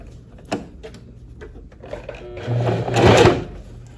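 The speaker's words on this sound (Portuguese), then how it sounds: "Vou fazer aqui a costura de pesponto ou a costura de reforço" A sewing machine topstitches the facing of a high-neck blouse. A few light clicks come first, then a short, loud motor run of about a second, close by.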